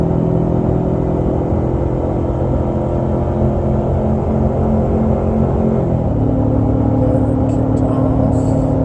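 Engine of a 2019 Ford Ranger in third gear at about 5,000 RPM, climbing uphill while towing 6,500 pounds, a loud steady droning rumble heard from inside the cab that drops slightly in pitch partway through.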